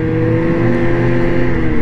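A 2023 Ski-Doo Renegade snowmobile engine, just past break-in, runs close by on a Maine trail with a steady, even drone and no clear rise or fall in revs.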